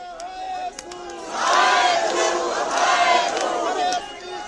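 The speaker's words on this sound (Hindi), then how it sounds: "प्रदर्शनकारियों की भीड़ जय श्री राम, भारत माता की जय और बांग्लादेश नहीं चलेंगे जैसे नारे लगाते हुए" A street crowd of protesters in Shimla chants slogans in unison, a loud roar of many voices rising sharply and sustained for a few seconds before easing back to a murmur.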